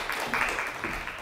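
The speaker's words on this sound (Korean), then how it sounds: "박수 부탁드립니다." Audience applause at a Friday science lecture on a plant resource bank in Daegu, a steady wash of clapping from a seated crowd, fairly soft and continuous for about a second.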